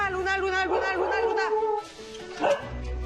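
A small dog yips and whimpers in a home with children at seven in the morning, its high, busy cries mixed under overlapping voices and household noise, with a louder bark near the end.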